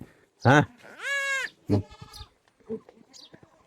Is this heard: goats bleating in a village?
yes